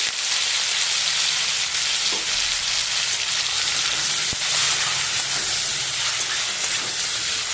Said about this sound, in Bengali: তেলটা গরম হয়ে গেছে, চিংড়ি মাছটা দিয়ে দেবো।